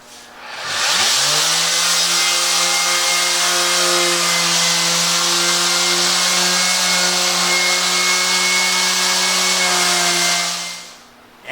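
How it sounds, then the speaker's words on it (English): A power sander fitted with coarse 60-grit paper spins up and runs loud and steady across a wooden workbench top for about ten seconds, with a constant motor hum under the rasp, then winds down. "get the absolute coarsest grit of sandpaper I can find. And I could only find 60 grit today"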